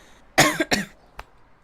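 Two sharp coughs close to the microphone, followed by a softer third one after a brief pause.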